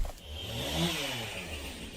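Proto Lancer chainsaw sound from Gears of War, a raspy motor buzz that rises and holds at a steady whine for two seconds, close and moderately loud, with no talk.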